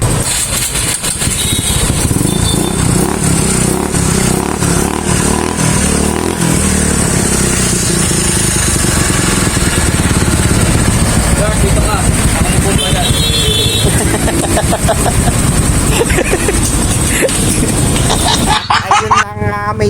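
A motorcycle engine started and run repeatedly at a repair shop, a loud continuous rumble that rises and falls with revving, then cuts off near the end amid background shop noise and voices.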